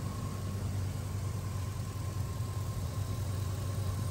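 A car engine with a blown head gasket idles steadily, a low, even rumble with a constant hum and no misfiring, heard close and alone.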